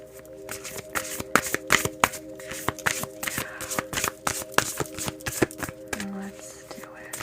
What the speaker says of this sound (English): let's draw an oracle card to kind of sum it up here